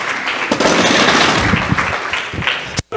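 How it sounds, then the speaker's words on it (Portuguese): An audience claps for Nard in dense, steady applause that fills nearly three seconds at close, loud level, then cuts off abruptly near the end. "Uma salva de palmas para o Nard"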